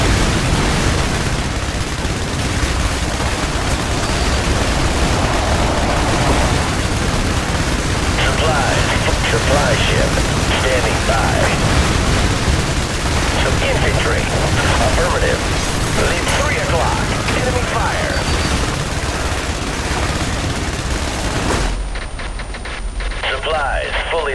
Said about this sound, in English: Airstrike approaching to designated supplies.